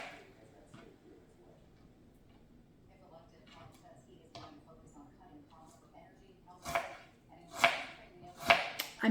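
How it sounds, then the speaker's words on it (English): A knife chops an onion on a board in sparse, faint cuts, then several louder, sharper chops toward the end, close by and with a person talking over them. "I'm just gonna cut up the onion"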